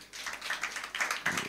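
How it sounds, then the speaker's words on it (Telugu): An audience claps in a church worship service, a brief patter of scattered hands that swells slightly near the end, moderately close and without talk. "ఒకసారి క్లాప్స్ కొట్టండి ఆయనకి."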